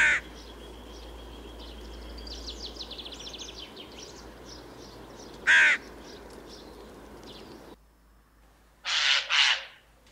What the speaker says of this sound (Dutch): De bonte kraai